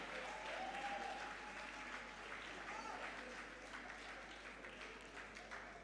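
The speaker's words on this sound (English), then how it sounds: "Another round of applause for Party people" Sustained applause from an audience at a foundation's 20th anniversary celebration, dense and steady for the whole stretch, easing slightly toward the end.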